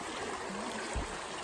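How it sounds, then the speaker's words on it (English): A small stream of running water on a desert trail in New Mexico gives a soft, steady trickling wash with a brief low gurgle, close by and continuous. "I haven't seen running water in so long."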